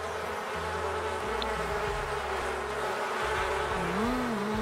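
Bees buzz in The Sims 4 during a bonding moment with a beehive: a continuous, close insect drone over light background music, with a slight swell near the end.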